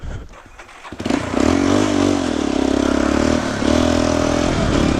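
A Yamaha Raptor 350 quad engine cranks and catches after a brief quiet moment, then settles into a loud, steady, throbbing idle with a slight rev dip partway through, close to the listener.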